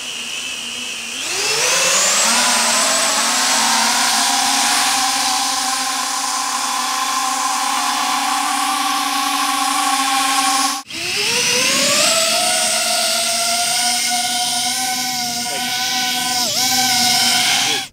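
A drone with 3D-printed toroidal propellers spins up and hovers, giving a loud, steady high-pitched whine. It briefly cuts out near the middle, then spins back up and holds its tone.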